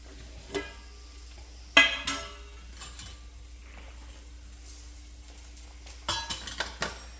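Cumin and fennel seeds drop into a pan and are stirred, giving a few sharp clinks and scrapes of a utensil against metal over a faint, quiet background.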